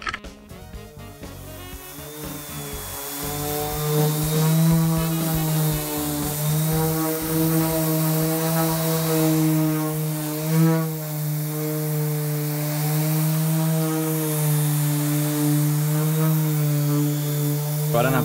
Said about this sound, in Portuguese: vamos lixar ele por tudo.